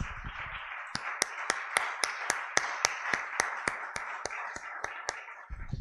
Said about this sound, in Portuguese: Vamos aplaudir bem forte ao Senhor